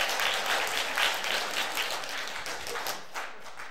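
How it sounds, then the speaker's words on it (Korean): A church congregation at a Sunday service in New Jersey applauds loudly and steadily, a dense wash of many hands clapping together with no talk over it, fading slightly toward the end. "우리 한번 크게 한번 박수 소리 부탁드리겠습니다"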